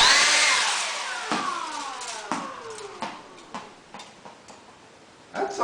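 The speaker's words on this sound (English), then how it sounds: "if you put the ball at the end of the leaf blower, and we could try blowing that out" A leaf blower spins down: its high whine slides steadily lower and fades, broken by sharp rattling ticks as it slows, with another burst at the end.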